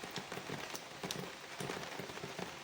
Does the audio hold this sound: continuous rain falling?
yes